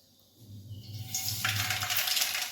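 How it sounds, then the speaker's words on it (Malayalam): Mustard seeds dropped into hot oil, a quiet hum that swells into a sharp hissing sizzle with crackling pops, close and steady. "കടുക് പൊട്ടി തെറിക്കുന്നുണ്ട് കേട്ടോ"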